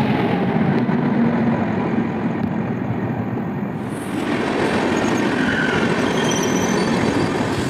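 A train at Sainthia railway station gives a continuous loud rumble with a broad roar throughout and a brief high squeal midway, steady in level, with no voices.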